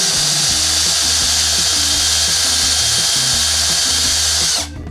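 A cordless drill bores out a rivet on a Pixar Cars toy car, a loud, steady whining motor with rhythmic pulsing as the bit grinds through the metal, cutting off abruptly at the end.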